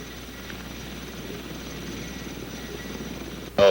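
A CH-54 heavy-lift helicopter hovers while lifting a load, giving a steady, moderately loud rotor and engine drone that ends with a sudden loud burst.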